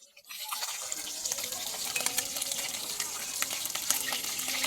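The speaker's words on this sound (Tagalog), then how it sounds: "kaya nagprito kog isda" Fish frying in a pan gives a steady, close sizzle and crackle that runs unbroken from start to finish, with no talking.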